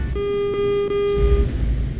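A single sustained truck horn in Euro Truck Simulator blares for about a second, loud and steady over low engine rumble.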